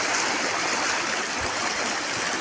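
A river, the Dades wadi in Morocco beside a narrow path near a canyon, rushes in a steady broadband wash, close and continuous with no pauses or talk.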